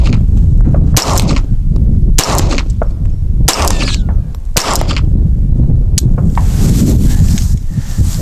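A pistol fires Federal Redbox underpowered rounds outdoors, five loud, sharp shots spaced about a second apart, then a weaker-sounding pop, with wind rumbling throughout.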